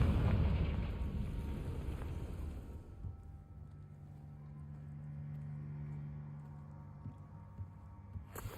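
A Confringo spell explosion in Hogwarts Legacy, a heavy close blast that rumbles and fades over a few seconds into a low, throbbing hum, with a faint hiss at the end.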